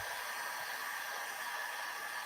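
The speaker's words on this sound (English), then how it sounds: "With a hot gun, excuse the noise, on low." Heat gun on its low setting, blowing on heat shrink tubing: a steady, close, even airy whoosh of hiss that holds without change throughout.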